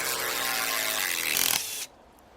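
A 12-volt impact driver hammering hard at a stuck fastener, a loud dense rattling whine that rises briefly before cutting off abruptly, leaving quiet.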